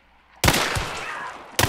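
Gunfire in the video game Hunt: Showdown: a loud sharp shot bursts in with a ringing tail, followed by a second sudden report near the end, close and forceful.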